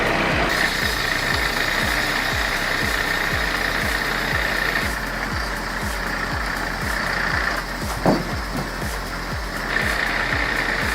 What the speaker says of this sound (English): The 480 engine provides plenty of grunt to haul massive logs out of the woods